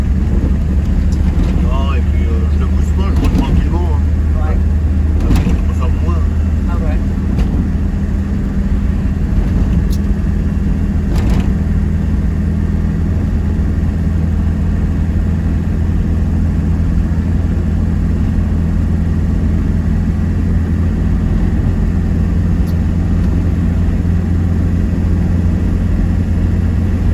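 A car cruises gently along the road, its engine a steady low rumble with road noise throughout, recorded from inside the cabin, with occasional faint knocks and no change in pace.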